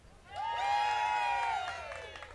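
A State Fair crowd cheers and whoops in one swelling, sustained shout that rises, holds for about a second, then tapers off, loud and fairly close.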